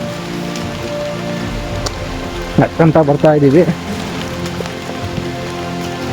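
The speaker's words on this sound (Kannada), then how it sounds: "ಮಳೆ ಬೇರೆ ಸರಿಯಾಗಿ ಹೊಡಿತಾ ಇದೆ" Heavy monsoon rain falls steadily during a trek near Kudremukh and Bandaje falls, a continuous hiss of drops on surfaces, with someone speaking briefly midway over the rain.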